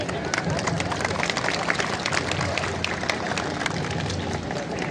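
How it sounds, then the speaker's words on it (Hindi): A crowd applauds at the Godavari aarti on the riverbank in Nashik, dense steady clapping and crowd noise filling the whole stretch, loud and close, with murmuring voices mixed in. "स्वागत करना चाहेंगे जोरदार तालियों के साथ"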